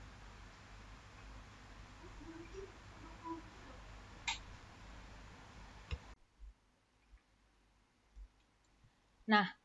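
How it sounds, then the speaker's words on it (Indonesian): A computer mouse clicks a Google Meet link, a few faint separate clicks over quiet background and low room noise, ending with a brief sharper sound. "sekarang kita klik linknya"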